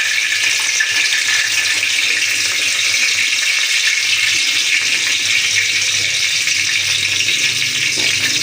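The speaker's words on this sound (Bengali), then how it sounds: "মাছের জন্য তেলও গরম করতে দিয়ে দিছি। এখন দেবো মেথি ফোড়ন" Fenugreek seeds hit hot oil for a fish curry and sizzle in a loud, steady, hissing crackle that runs unbroken throughout. It sounds close, with no voices over it.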